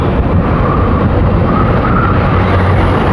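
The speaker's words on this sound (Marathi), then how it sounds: "Guys, helicopter." A helicopter flies overhead on an overcast, rainy-season day, producing a loud, constant roaring rumble that fills the scene without any break.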